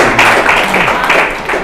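An audience at a live health talk breaks into dense, continuous applause, many hands clapping close and loud in a full, brief burst.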